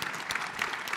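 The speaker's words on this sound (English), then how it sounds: "A big round of applause for the panel." Short burst of audience applause for a technology and transportation panel, a dense, even patter of many hands clapping.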